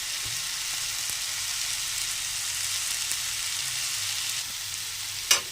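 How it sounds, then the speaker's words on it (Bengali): Green chillies fry in spiced oil in a pan, making a loud, steady sizzle that runs unbroken from start to finish, close by, with one short clink near the end and no talking. "এবার দিয়ে দেবো তিনটে কাঁচা লঙ্কা"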